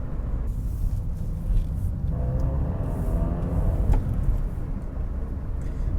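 A Ford Ka engine idles and revs with a deep, throaty intake roar, steady and close, with a brief swell in the middle.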